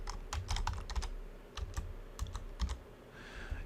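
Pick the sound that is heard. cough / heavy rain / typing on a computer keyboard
typing on a computer keyboard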